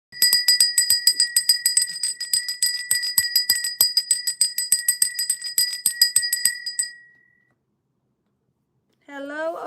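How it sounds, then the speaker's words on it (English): A small bell or singing bowl is struck in a quick, steady series of bright, ringing strikes for about seven seconds during a live tarot reading, then rings out and fades, followed by a brief burst of speech. "let's go ahead and cleanse the air with the bell"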